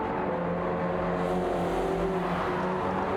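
A race car drifts round the last corner in a racing video game on the Dragon Trail Seaside track, its engine a steady loud droning whine with a slight tire-scrub edge, sustained throughout without pause.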